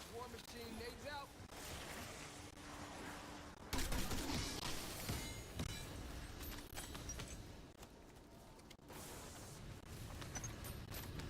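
War Machine's grenade launcher in a video game: a series of sharp blasts and gunfire, with a sudden louder burst partway through and continued rattling impacts, mixed with someone talking over the action.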